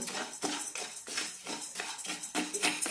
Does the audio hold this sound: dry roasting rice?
yes